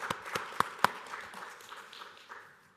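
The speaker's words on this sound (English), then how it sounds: "Give Connie a big round of applause." A few audience members at a Barton Community College PTK honors ceremony at Fort Riley clap in sparse, distinct claps that quickly thin out and fade into quiet room murmur.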